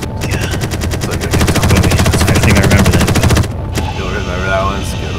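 Rapid automatic gunfire rattles loudly and continuously for a few seconds in the Space Engineers video game, then cuts off to quieter mechanical game sounds, with voices talking over parts of it.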